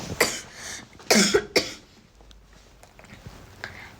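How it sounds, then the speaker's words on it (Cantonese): A few sharp coughs, loud and close, in two clusters early on, followed by quiet room noise. "我又開始咳啦"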